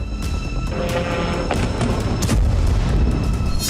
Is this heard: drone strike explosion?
yes